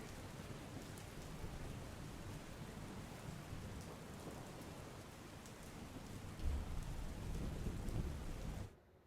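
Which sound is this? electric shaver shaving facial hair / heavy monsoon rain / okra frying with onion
heavy monsoon rain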